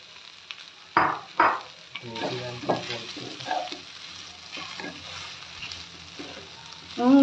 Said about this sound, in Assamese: ঘিউত ভাজি লৈছোঁ আৰু ইয়াতে মই এতিয়া চাউলখিনি মিক্স কৰিম